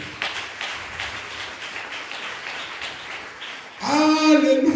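A church congregation claps and applauds through a worship service, a steady broadband patter, then voices rise in singing or acclamation over it near the end.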